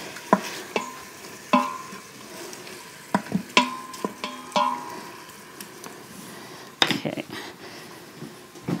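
A utensil stirring batch-cooked proteins frying in a pan: scraping clinks and knocks come in irregular bursts over a low, steady sizzle, close and fairly quiet.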